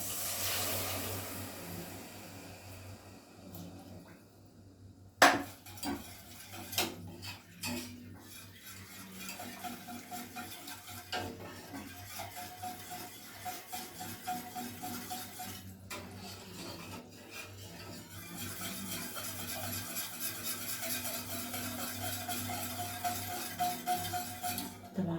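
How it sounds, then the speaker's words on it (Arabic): Milk poured over cooked flour in a pot and stirred, with a steady rasping scrape of a utensil against the pot and clinks of metal running throughout, close and continuous, with no talking. "هنزل بقى عليهم كده باللبن"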